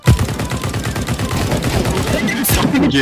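Rapid automatic gunfire in the video game Counter-Strike 2, loud, continuous bursts of shots close up, with a faint voice underneath.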